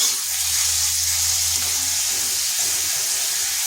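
Onions fry with added salt in a hot pan, giving a steady loud sizzle with some stirring underneath, close and without speech.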